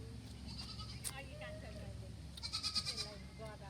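A goat at a zoo bleats in a short quavering burst near the end, heard under nearby chatter from people talking.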